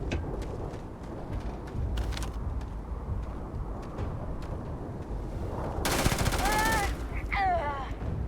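Turret gunfire in the space game Starfield comes as sharp bursts of shots over a rumbling background, followed by a louder burst and whining tones near the end.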